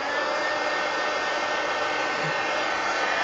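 A hair dryer blows continuously and loudly at close range over damp art journal pages, a constant steady whooshing drone with no breaks.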